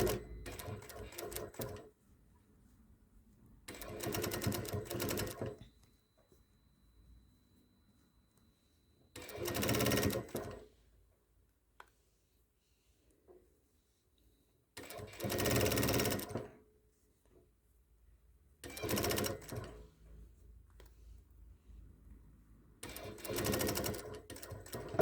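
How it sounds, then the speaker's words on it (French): A sewing machine stitches a pocket bag seam on a raglan garment in five or six separate bursts of a few seconds each, the steady whirr stopping and starting with quiet pauses between runs. "Je fais des arrêts en début et fin de couture."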